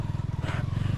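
A motorcycle engine labours in short, rhythmic throbbing pulses on a rough mountain trail, chugging close by in a brief loud burst with no talk.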